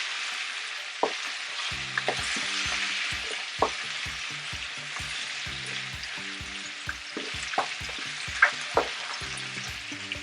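Onions and small carrots fry in a pan for a goat meat roast, giving a steady close sizzle broken by regular scraping and clicking stirs, with no talking.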